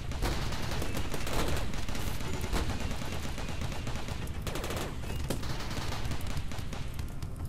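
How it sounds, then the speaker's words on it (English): Dense, sustained gunfire from a RimWorld battle, rapid overlapping shots and bursts rattling continuously at a steady loud level with no pauses and no voices. "I feel like we're shooting each other in the back"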